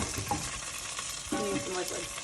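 Onions fry in fat for beef stew, sizzling and crackling steadily in the pan with brief scraping stirs, close and continuous.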